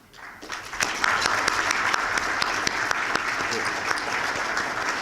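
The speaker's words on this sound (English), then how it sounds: "If you please stand up for a round of applause." A room of attendees at a chamber of commerce breakfast applauds a newly introduced member, the clapping swelling up within the first second and then holding as a full, steady patter of many hands, fairly close, with a few voices mixed in.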